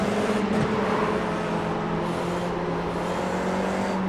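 A racing car in the iRacing sim, an FIA F4 car in an esports race, drones with a steady loud engine tone as the throttle is eased through a corner, continuous and close with no talking.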